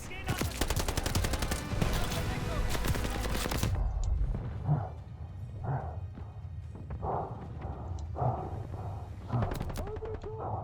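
Loud, rapid machine gun bursts in Call of Duty Vanguard for the first few seconds, then scattered single shots and battle noise with voices shouting in the background.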